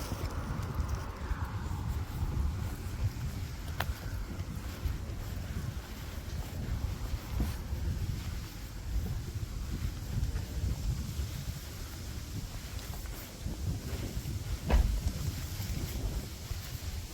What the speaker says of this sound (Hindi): हवा चल रही है भाई